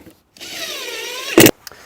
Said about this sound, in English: once you've finished drilling all these holes